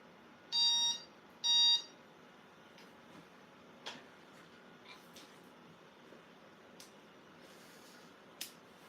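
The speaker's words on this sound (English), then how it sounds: "Power's on, we can make it beep." A WinBook XP laptop motherboard, powered on during bench repair, gives two short, clear beeps close together near the start, followed by faint scattered clicks and ticks.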